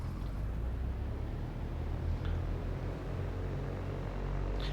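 Cessna 172F piston engine idling during a run-up, a steady low drone heard from inside the cockpit at moderate level, unbroken throughout.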